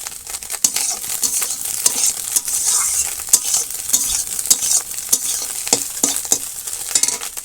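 An egg omelette fries in a pan in a village kitchen, sizzling steadily with repeated scraping and stirring strokes close by.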